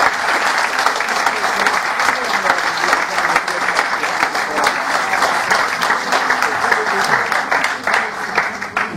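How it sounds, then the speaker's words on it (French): Loud, sustained applause from an audience after a debate, many hands clapping in a thick, steady wash with a few sharper individual claps standing out, continuing without pause. "On peut applaudir"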